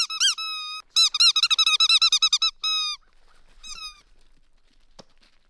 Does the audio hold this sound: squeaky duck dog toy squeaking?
yes